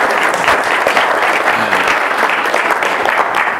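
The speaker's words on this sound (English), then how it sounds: "I don't like it when you clap before I speak" Lecture audience at a university leadership series applauding a guest speaker, loud sustained clapping with scattered voices under it.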